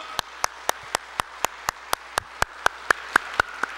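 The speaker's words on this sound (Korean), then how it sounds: "그렇게 좋으신 하나님께 다시 한번 큰 박수로 영광 드리겠습니다." A church congregation claps in a slow, even rhythm during a Sunday service, single sharp claps spaced evenly, moderately faint in a quiet room.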